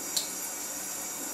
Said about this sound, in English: I turn the water off